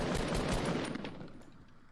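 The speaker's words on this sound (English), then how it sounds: "I'm going to shoot them down." Rapid automatic gunfire from the Fortnite video game, a dense burst of shots that is loud at first and then trails off over about two seconds.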